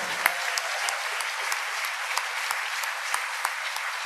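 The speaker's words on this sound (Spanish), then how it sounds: "Dele ese aplauso al Señor, déselo con todas sus ganas." A congregation at a church service claps in praise, an even, continuous patter of many hands with occasional sharper individual claps standing out, steady and fairly close throughout.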